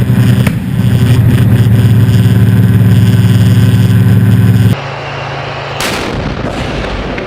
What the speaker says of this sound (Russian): Камера на первом танке фиксирует взрыв возле частного сектора.